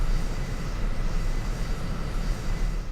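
A fixed-wing aircraft taxis on a runway in a flight combat video game, its engine giving a steady, continuous drone with a low rumble throughout and no speech.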